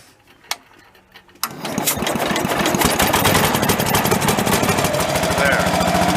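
A tractor engine sputters through a few weak turns, then catches and settles into a loud, close, rapid chugging idle that continues steadily, with speech heard beneath it.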